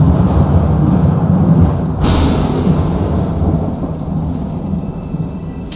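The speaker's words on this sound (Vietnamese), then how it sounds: "Không có gì, mưa sấm chớp thôi anh em." Thunderstorm in the game Bendy and the Dark Revival: steady heavy rain roars throughout, with a rumbling thunder crack near the two-second mark before the downpour eases slightly.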